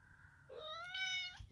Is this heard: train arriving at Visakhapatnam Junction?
no